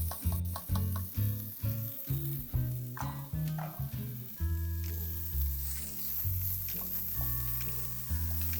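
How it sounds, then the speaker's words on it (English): Chopped garlic, onion and spring onion hit a hot pan, giving a close, steady hiss and crackle with bumps and scrapes from stirring, while background music plays and no one talks. "And into the pan, I'm going to put some chopped garlic and some onion as well, and also some spring onion."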